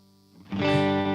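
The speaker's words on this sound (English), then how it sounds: "Way too much reverb." Rock band music washed in heavy reverb rises from near silence into a dense, loud, sustained wall of distorted, effects-laden sound with no voices over it.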